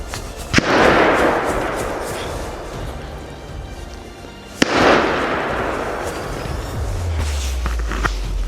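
Two sharp gunshots ring out during a wild boar hunt in a Polish forest, each a loud crack followed by a rolling echo through the trees, with a low rumble near the end.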